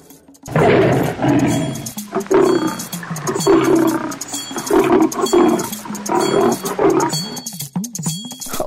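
A lion roars loudly and up close in a long series of deep, rasping roars and grunts that swell and fade, ending in short throaty calls.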